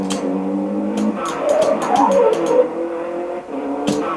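A car in a racing video game engine hums steadily while tyres skid and squeal in warbling bursts over sharp clicks, all loud and continuous, without talking.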